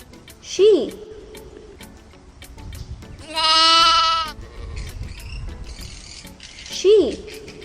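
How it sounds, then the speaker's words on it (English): Sheep bleating on a farm, two loud wavering bleats near the start and end with a sustained harmonic bleat in the middle, heard up close over faint background noise. "sheep,"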